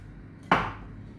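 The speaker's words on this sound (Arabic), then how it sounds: "درت مطيشه هكا كبيره كنقطع بحال هكا" A single firm knife chop through a large tomato on a cutting board for a Moroccan salad, one sharp close stroke with a short decay and no voices.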